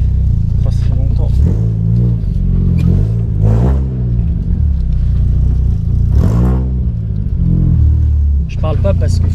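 A Peugeot 106 S16 engine idles and revs gently as the car is parked at home beside a low wall, a close, steady rumble that swells several times.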